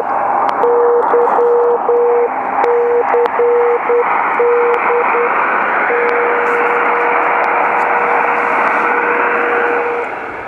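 A longwave non-directional radio beacon, identifier 251 YCD, picked up through a 6.5-foot tuned passive loop antenna: a steady beeping tone keyed in short Morse-like bursts, then held as one long unbroken tone, all over constant loud static hiss.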